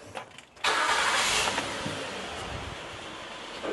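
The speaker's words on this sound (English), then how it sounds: "Let me fire up the car and show you." A car engine cranks and catches, then settles into a steady, loud running rumble close by.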